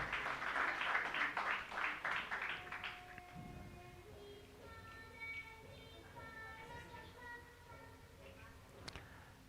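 Audience applause at a New Year's church service breaks out loudly for about three seconds and then fades, giving way to sustained tonal sounds and voices.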